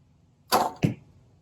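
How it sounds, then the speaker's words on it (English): An arrow leaves a Bear Black Panther ILF bow in a single close, sharp release whoosh, followed a beat later by a short thump, with quiet before and after. "So we're just going to sit here and shoot this for a while."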